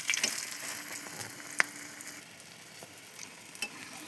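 Cabbage cutlets coated in semolina and flour frying in hot oil in a kadai, a steady close sizzle with scattered pops and a few light utensil clicks.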